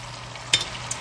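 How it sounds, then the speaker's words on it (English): Potatoes fry in a skillet with seasoning, a soft steady sizzle marked by one sharp scrape of the pan partway through. "just move your potatoes around a little bit so you can make sure some of them are at least, touching the bottom of your skillet"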